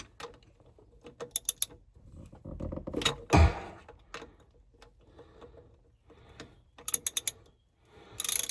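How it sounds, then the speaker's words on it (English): Ratcheting wrench loosening a bolt while replacing a boat impeller in a cramped engine space, bursts of quick clicking pawl ticks with metallic clanks and pauses between, close and fairly quiet. "Step 1. Loosen the bolt."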